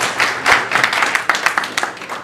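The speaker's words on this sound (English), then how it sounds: "how about please a round of applause for Ian and for Paul for making this happen today" Audience applause at a film DVD premiere Q&A at Liberty Forum 2013, a dense, steady patter of many hands clapping close by for about two seconds, with scattered sharper claps standing out.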